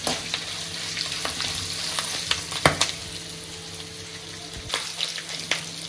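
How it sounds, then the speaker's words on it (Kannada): Byadagi chillies fry in a pan for crab sukka with a close, steady sizzle, while a few sharp clinks and scrapes of stirring cut through it. "ಅದೆಲ್ಲ ನೀಟಾಗಿ ಫ್ರೈ ಆಗಲಿ"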